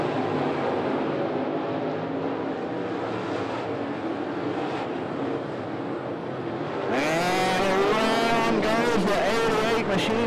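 NeSmith late model race cars roar around the 411 Motor Speedway dirt oval, a steady loud engine drone that surges into a close, screaming pass with rising and falling revs near the end, under a commentator's voice.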